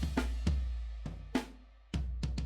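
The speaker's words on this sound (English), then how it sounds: "And then this, the kick as well." Heavily compressed kick drum sample with snappy hits over a sustained low boom, several irregular thumps in quick succession, played alone.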